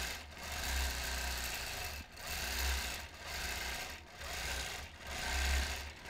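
A quilting sewing machine stitches across a quilt in long continuous runs, its fast steady whir swelling and easing in rhythmic passes with brief pauses between, close and fairly quiet with no talking.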